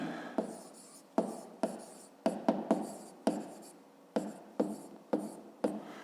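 Pen or pencil strokes scratch across paper in short repeated bursts, close and quiet, with brief pauses between them while numbers are written down.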